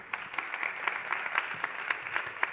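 Applause from an audience at a startup ecosystem event, a steady wash of clapping with scattered sharper claps, moderately distant and without talk.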